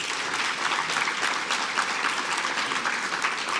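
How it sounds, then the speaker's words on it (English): An awards ceremony audience breaks into a full, continuous wash of applause, loud and even throughout with no voices on top. "Please join me in giving them a great round of applause."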